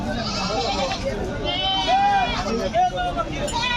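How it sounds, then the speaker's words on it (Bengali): Goats and sheep bleat at a busy livestock market, with several wavering calls rising above a constant babble of people talking nearby. "অনেক সুন্দর সুন্দর খাসি ছাগল ভেড়া এখানে সব কিছু আছে"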